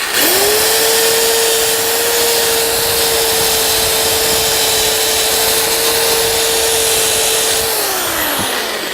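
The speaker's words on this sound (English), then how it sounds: "We'll go ahead and hit with the wire wheel a little bit more." A wire wheel on a power tool spins up and runs at a steady high whine for several seconds during car restoration work, loud and close, then winds down near the end.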